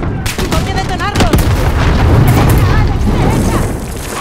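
An explosion and bursts of gunfire fill a Call of Duty Modern Warfare firefight, loud and dense. Rapid shots and booms come in quick succession, and the rumble stays close throughout.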